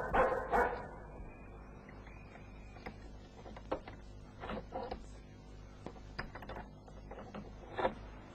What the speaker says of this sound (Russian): Убери свою собаку